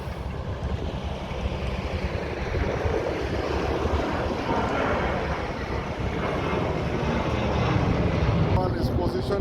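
Corsair Airbus A330-300 taking off at Orly airport, a loud, sustained broadband jet roar that holds steady and builds slightly, heard from a distance with wind.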